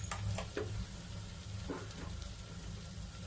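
Potatoes fry in a pan, a quiet continuous sizzle over a low hum with a few soft knocks near the start.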